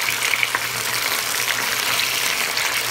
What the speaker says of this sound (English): So we're going to fry this for about 4 to 5 minutes.